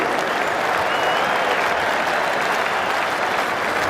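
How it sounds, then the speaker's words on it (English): Cricket crowd at Lord's giving a standing ovation during the 2009 Ashes Test, dense sustained clapping from a large stadium audience, loud and even throughout. "Getting a standing applause in the crowd, and well-deserved, Andrew Flintoff."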